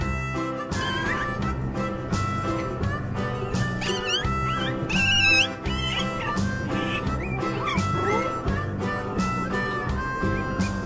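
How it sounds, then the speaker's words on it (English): A dog barks and yips in short bursts over a bright, busy musical backing, with squeaky cartoonish accents throughout. "Dog."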